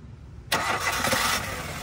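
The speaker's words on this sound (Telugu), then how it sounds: "ఇప్పుడైతే మీకు ఒకసారి వెహికల్ స్టార్ట్ చేసి చూపిస్తాను" A 2017 Maruti Suzuki WagonR LXi petrol/CNG hatchback starts on a single crank after brief quiet, then settles into an even, moderately loud idle, with no voices.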